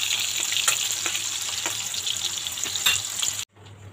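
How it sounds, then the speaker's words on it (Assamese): Salted potato pieces fry in hot oil while being prepared for chicken biryani, making a loud, constant crackling sizzle up close with light stirring taps, until the sound cuts off abruptly near the end. "আলুকেইপিচ ধুনীয়াকৈ ফ্ৰাই কৰি লওঁ"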